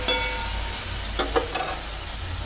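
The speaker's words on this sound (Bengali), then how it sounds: "ভাজাটা একটু ভালো করে করতে হবে" Moong dal fries in a pan with a steady sizzle, and a few soft scraping stirs of a spatula run over the constant hiss.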